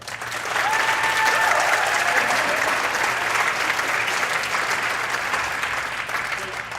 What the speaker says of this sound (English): just a quick round of applause for KASSAA